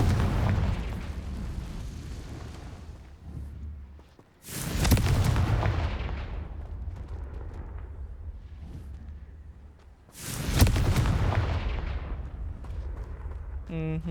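Confringo spell blasts in the game Hogwarts Legacy: two loud booming explosions a few seconds apart, each trailing off over a low background rumble.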